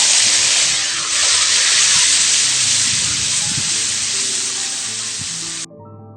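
Onion and garlic paste hits oil left from frying tilapia, a loud dense sizzle with spattering crackle that gradually eases before stopping suddenly, with some faint stirring knocks underneath.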